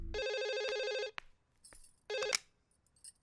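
A telephone rings in two bright, electronic trilling bursts separated by a short pause, clear and fairly close, with small clicks in between and no talk.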